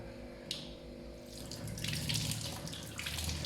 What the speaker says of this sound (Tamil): இப்போ நம்ம எல்லாம் எடுத்து ரன்னிங் வாட்டரில் கழுவிடலாம்.